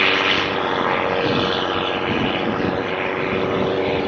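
A passing truck gives a loud, continuous engine rumble and roar that stays steady and close for the whole stretch, with no talking over it.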